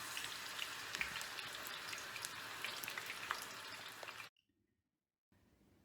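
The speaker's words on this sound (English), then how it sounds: "So now I can start adding the zucchini in the hot oil, slowly, and we fry them." Sliced zucchini frying in hot oil in a pan, a steady crackling sizzle with scattered pops that runs for about four seconds, then cuts to near silence before a faint hiss returns.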